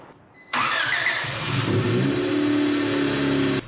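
A 1988 Honda CRX Si four-cylinder engine cranks briefly and catches, then settles into a steady, loud idle with a droning hum that continues without a break until it cuts off abruptly at the end.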